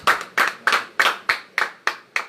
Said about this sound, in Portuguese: E para Jesus as suas palmas, porque Ele é digno